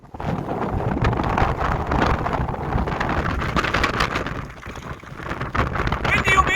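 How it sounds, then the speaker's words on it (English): Strong wind buffeting the microphone on an open fell top in the Lake District, loud continuous gusty roar with fluctuating surges and no clear speech. "Windy up here, James, isn't it?"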